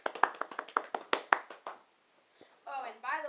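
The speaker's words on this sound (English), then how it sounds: "How about a round of applause for my assistant?" Sparse applause at a talent show tryout, about a dozen distinct claps from a small audience, soft and somewhat uneven, fading out before a voice starts talking.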